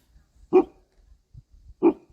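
Two sharp dog barks ring out about a second apart, close by, against an otherwise quiet background.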